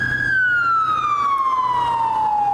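An emergency vehicle siren, likely an ambulance or fire truck, sounds a single long, slowly falling tone, loud and steady throughout with no talk over it.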